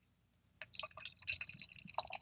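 An IPA from Jolly Pumpkin, Pure Speculation, pours from a can into a glass, making quiet splashing and fizzing glugs that start after a short pause and continue in uneven bursts.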